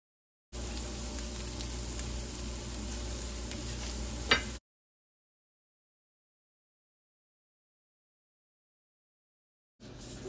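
Browned ground meat with taco seasoning mixed in, sizzling steadily in a pan for about four seconds with one sharp clink from stirring, then the sound drops into silence.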